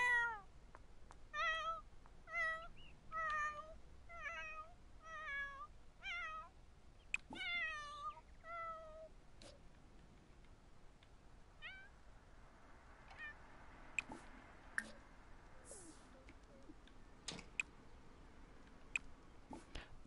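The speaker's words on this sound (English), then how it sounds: "There's a lot of cats out here, so what I think I'm gonna do is, ooh, that's a Siamese." A Siamese cat in a video game gives a run of about eight clear, evenly spaced meows, followed by quieter scattered clicks and faint background sounds.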